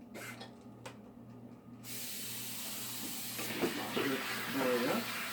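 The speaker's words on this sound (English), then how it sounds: "Sprayer." A kitchen sink sprayer rinses lettuce with a steady hiss of spraying water, rising louder toward the end, while a low hum runs underneath and a person speaks briefly.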